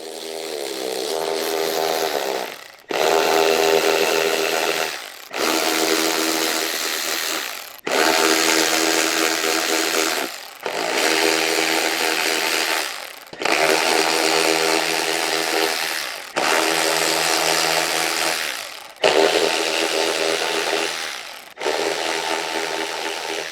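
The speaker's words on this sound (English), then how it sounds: "Use the medium 12 mm deep socket with a medium electric impact wrench" An electric impact wrench with a 12 mm deep socket removes the retaining bolts of a side step on a 2011 Ford Explorer, firing in about eight loud, buzzing bursts of two to three seconds, each separated by a brief gap.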